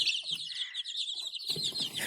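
Thin, high-pitched cheeping of a chick, steady and close, with a little soft clucking or rustling near the end.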